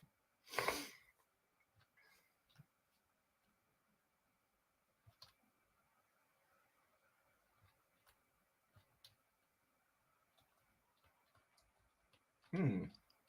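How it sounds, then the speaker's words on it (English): Sparse, faint clicks of computer keyboard buttons tick at irregular intervals through near silence, broken by two short louder bursts near the start and end. "I was hitting the wrong button on the keyboard."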